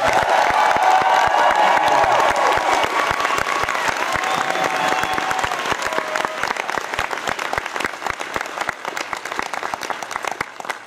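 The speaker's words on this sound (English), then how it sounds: "So please give them the thunderous applause you would give them at the end of the show." A live show audience bursts into loud applause with cheering and whoops. Dense clapping fills the start, then thins slowly into scattered, individual claps as it fades.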